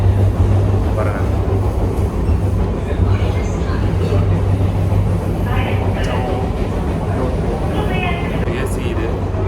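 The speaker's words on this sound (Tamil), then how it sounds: "இப்போ நாங்கள் வந்து ஏசி ட்ரெயின் தான் போயிட்டுருக்கோம்" An AC local train near Vasai Road, Mumbai, runs with a steady low rumble and rolling rattle from inside the carriage, and people talk over it throughout.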